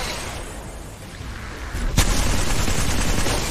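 The L-STAR energy weapon fires in a video game as a continuous, rapid stream of gunfire over a steady background din. It grows sharply louder and denser with a strong burst around the midpoint.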